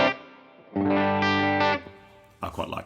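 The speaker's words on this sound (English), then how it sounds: "Let's go back to silver long, plate reverb." Electric guitar through a silver long plate reverb in Native Instruments Guitar Rig 6: a distorted chord rings out, then a sustained strummed chord with a lush reverb tail decays, and a short burst of notes follows.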